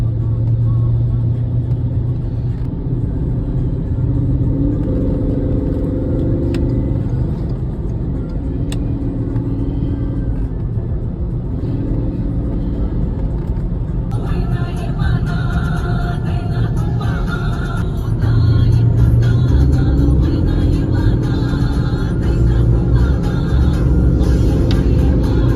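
A Porsche Cayenne engine drives in sport mode, a steady, loud low rumble heard from inside the cabin with mild rises in revs, continuous throughout with a voice talking faintly over it.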